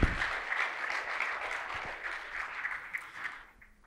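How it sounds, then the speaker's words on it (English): Round of applause from guests at an Arab Health 2019 dinner, a steady wash of clapping heard from a distance and fairly quiet, tapering off near the end. "I want to say a big round of applause to them."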